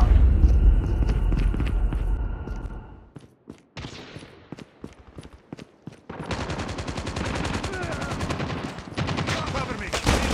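Gunfire in the Call of Duty video game, with dense rapid bursts of automatic fire at the start and again in the second half, separated by quieter shots, thumps and footsteps.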